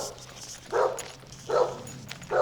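Dogs bark along a street passed on foot during van life, three separate bursts spaced about a second apart, moderately near, with quiet background between them.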